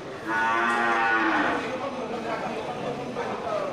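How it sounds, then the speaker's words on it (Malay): Water buffaloes, both bulls and cows, low at a livestock market, one long deep moo rising close by and then trailing off into softer grunts against a busy background. "Pak Ilyas sediakan 5 ekor kerbau jantan dan betina"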